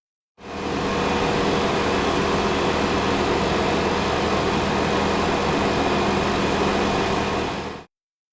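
Steady mechanical workshop ambience: a dense, even hum and whir of machinery that fades in, holds constant at moderate loudness for about seven seconds, then stops cleanly.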